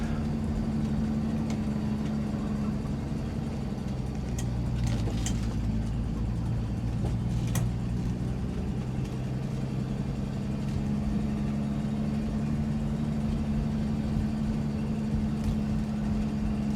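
A 1967 Ford Mustang with a newly installed timing chain runs during a test drive, its engine a steady low drone heard from inside the car, with faint rattles and clicks over it and no talking.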